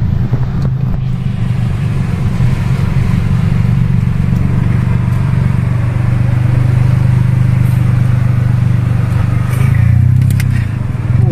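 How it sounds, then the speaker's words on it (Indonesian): Datsun Go Panca fitted with an HKS aftermarket exhaust, idling and revving at a toll gate, giving a steady, loud, close low rumble that swells slightly near the end, with no talk over it. "knalpot HKS renyah banget suaranya ya"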